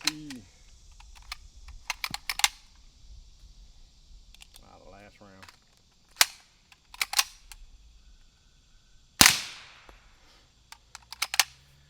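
Suppressed gunfire from a Zenith Uzi-style firearm with an 8-inch Pike Arms barrel, fired through a Liberty Mystic X suppressor with 147 grain Callaway Ballistics rounds: several sharp cracks spaced irregularly, one standing out louder, with faint talk between shots.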